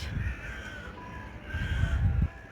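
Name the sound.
crows cawing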